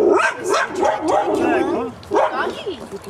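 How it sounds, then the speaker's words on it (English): A dog gives a run of short yips and whimpering barks at close range, mixed with a person talking nearby. "Doggy."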